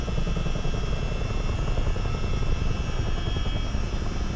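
A CH-47 Chinook twin-rotor helicopter flying in Microsoft Flight Simulator, a loud, steady rotor thump and engine drone with a fast pulsing beat, continuous and close with no voices.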